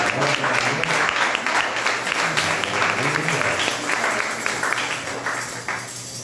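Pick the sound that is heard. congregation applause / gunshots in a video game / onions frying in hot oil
congregation applause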